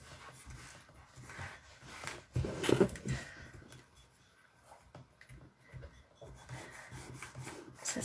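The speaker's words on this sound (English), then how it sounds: "Rub the back fully." Paper being rubbed by hand against the back of a glossy magazine page pressed onto a painted gel plate, a soft close scraping and swishing that comes in irregular strokes with a brief louder rustle, with no talking.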